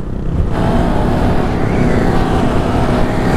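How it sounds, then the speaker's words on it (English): Motorcycle engine during a wheelie session, roaring loud and close with a steady rising drone and slight wind buffeting, no talking. "It's a nice little session of wheelies we got going on here."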